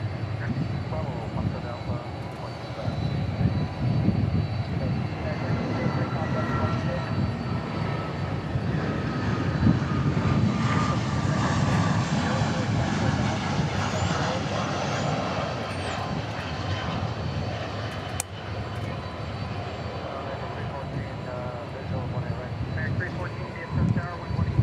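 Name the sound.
jet aircraft taking off at DFW airport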